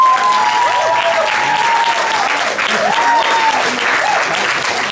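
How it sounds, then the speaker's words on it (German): A talent-show audience at an annual final in a pool garden venue bursts into loud, sustained applause, dense clapping with scattered whistles and cheers throughout. "Und jetzt bitte der Applaus"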